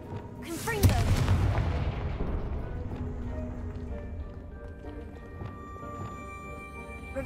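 A Confringo fire spell is cast in the video game Hogwarts Legacy, a loud fiery burst that booms and then fades into a long rumbling tail, with faint game sounds continuing afterward.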